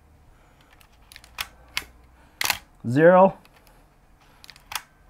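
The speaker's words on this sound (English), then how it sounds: "What you're going to want to do is just to film advance, fire off a shot, advance, fire off a shot until it reaches one." Nikon F3 film camera winding its film advance and firing the shutter, a few sharp mechanical clicks and brief whirring strokes spaced out over several seconds, close and clear, with one short spoken word among them.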